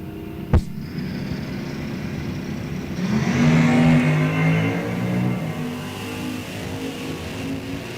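Drag race cars at an NHRA event, a sharp bang followed by engines revving and roaring down the strip at a distance, fading out over several seconds.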